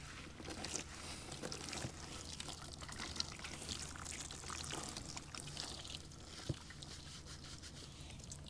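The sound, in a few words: water poured for washing face in van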